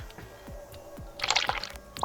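A water container being refilled in the SailWind sailing game, soft rhythmic clicks followed by a brief burst of splashing liquid and a final drip, fairly quiet with no talk.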